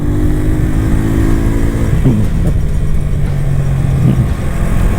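FKM Agimat 175 motorcycle engine on a test ride while still in its break-in period, a steady loud drone with rising and falling pitch as the throttle shifts, running continuously without talk.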